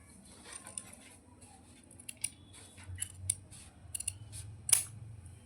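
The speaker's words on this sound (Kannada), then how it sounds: "ಇದನ್ನು ಇಲ್ಲಿ ಫೋಲ್ಡ್ ಮಾಡಿರ್ತೀವಲ್ಲ ಅಲ್ಲಿಗೆ ಕಟ್ ಮಾಡಬೇಕಾಗುತ್ತೆ" Scissors snip through a folded piece of waste cloth in a quiet room, a handful of short, sharp cuts spaced irregularly, the last one loudest, with no talking.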